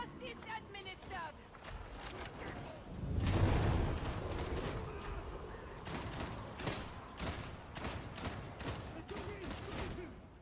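Video game gunfire crackles in bursts and rapid volleys, with a louder rumbling blast in the middle, and people talk over it throughout.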